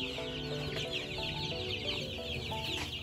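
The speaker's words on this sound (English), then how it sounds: "Chicks." Chicks clucking and cheeping at a fair petting zoo, a busy chorus of small fowl calls mixed with soft background music.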